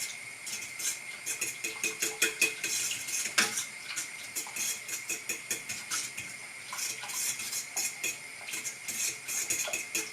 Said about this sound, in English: Put the mushrooms in the cheese sauce